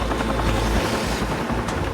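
A rescue helicopter departs over open water, its rotors thudding in a loud, steady chop with a deep engine drone, heard close and alone.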